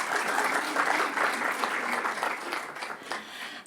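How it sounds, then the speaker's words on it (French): Audience applause at an academic conference day, a full room clapping steadily and continuously, close and even, fading slightly near the end. "et je vous demande aussi de l'applaudir."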